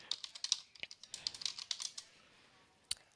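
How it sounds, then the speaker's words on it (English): Quick, light keystrokes on a computer keyboard tap out a short burst of typing, faint and close, followed by a pause and a single final key press. "I can click in the search bar and type in flowers"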